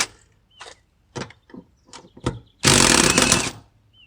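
Bolts being removed from a seat in a Ford Focus ST interior: short bursts of ratcheting and tool clicks, then a longer loud whirring burst, close by with quiet gaps.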